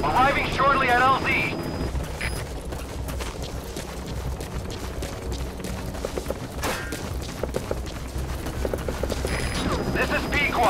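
Support helicopter arriving at a landing zone in Metal Gear Solid V: The Phantom Pain, a sustained rotor and engine rumble under radio chatter and game voices, with a few sharp thumps and swells of noise.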